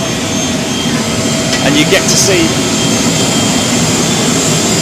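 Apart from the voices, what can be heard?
Emirates Boeing 777 jet engine running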